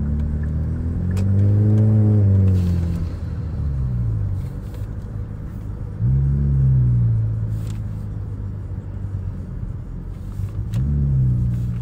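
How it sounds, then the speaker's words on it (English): A turbocharged car engine revs up three times, each a deep rising swell that sinks back to a rumbling idle, with short airy hisses of turbo blow-off between revs. It sounds close and loud, with no talking. "that turbo blow off is sweet as fuck"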